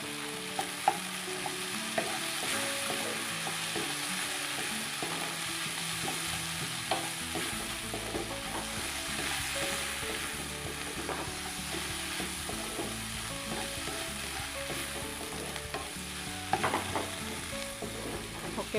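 Bitter melon stir-fries with scrambled egg and tomato in a hot pan, a steady loud sizzle with frequent scraping and clinking of a spatula stirring, no voices.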